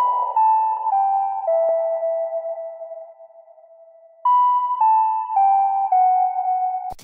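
A pretty synth pluck built on a square wave from oscillator B plays a short descending run of clean, ringing notes, pauses as the last note fades, then repeats the phrase.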